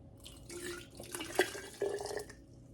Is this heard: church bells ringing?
no